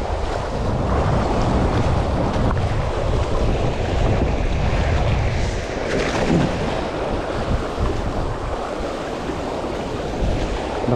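Strong water current rushes around a small boat, a dense, continuous wash of churning water mixed with heavy wind buffeting the microphone.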